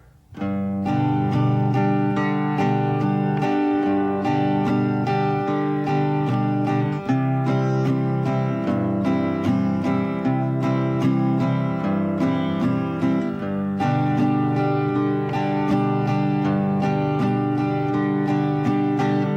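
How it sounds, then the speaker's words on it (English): Steady down-up guitar strumming in an even, straight rhythm, continuous and fairly loud with chord changes throughout, no voices. "I'm going to play it in what's called straight rhythm"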